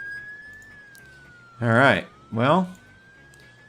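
A faint, steady ambulance siren tone drones through the Emergency 4 emergency-response game, running under two short bursts of speech.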